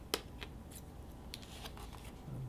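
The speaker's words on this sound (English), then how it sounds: "Pretty soft, cut easily with a scissor." Scissors snip through the soft parts of a PowerUp 4.0 paper airplane kit, giving a few quiet, crisp cuts and rustles close by.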